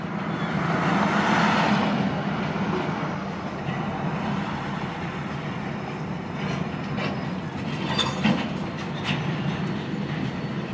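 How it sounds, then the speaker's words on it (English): A freight train made up of boxcars rolls past fairly close, a steady broadband rumble and rattle of railcars with scattered clanks and squeaks, continuous through the whole stretch. "Well, that's a funky looking boxcar, eh?"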